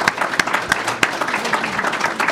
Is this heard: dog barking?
no